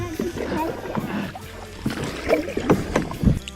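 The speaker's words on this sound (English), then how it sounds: "We're paddling faster than you because we mustard." Paddles dip and splash as a small boat is rowed quickly across open water. The strokes land in an uneven rhythm under steady wind noise, and voices can be heard nearby.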